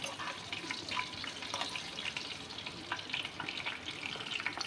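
Kalonji seeds frying in a pan for tomato chutney, a dense, even crackling sizzle that keeps up throughout, close and moderately loud, with no voices.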